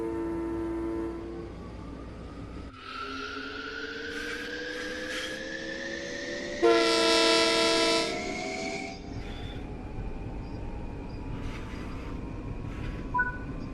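A Long Island Rail Road commuter train in Train Sim World 4 pulls away, its electric motor whine climbing steadily in pitch, with a louder horn-like burst partway through. No one speaks.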